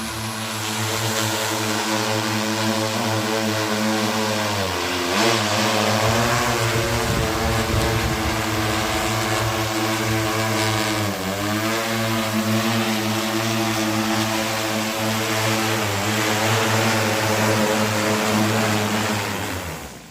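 A large agricultural spraying drone flies during a field trial at Karuvarakundu Kalkundi, giving a loud, steady propeller drone with strong harmonic whine that rises and dips slightly in pitch for about twenty seconds, with no talk.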